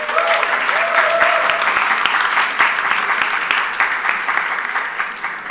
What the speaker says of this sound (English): So please give a round of applause for Esma.